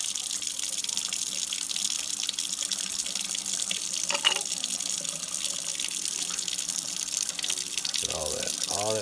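White distilled vinegar poured down a sink drain during rust removal gives a continuous rushing, gushing liquid sound, steady and close throughout, with a brief clatter near the end.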